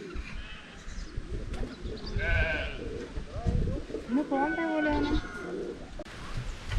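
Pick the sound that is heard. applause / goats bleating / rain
goats bleating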